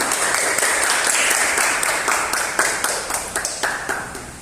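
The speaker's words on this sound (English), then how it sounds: "Let's give a round of applause to both teams for their outstanding participation" An audience applauding at the close of a debate, a dense, sustained burst of many hands clapping that thins toward the end into sparser, individual claps.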